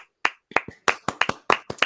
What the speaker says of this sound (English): it deserves a hand clap